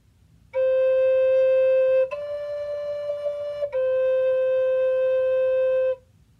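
A breathy wooden Native American flute plays three sustained notes, stepping up to a higher pitch and back down as fingerings change, clear and solo.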